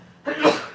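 A single short, sharp sneeze bursting out after a moment of quiet, close and fairly loud.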